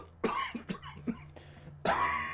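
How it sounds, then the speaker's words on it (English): A person coughs several times in short, harsh bursts, close by, followed by a heavier final cough after a brief pause. "How long have you had that cough?"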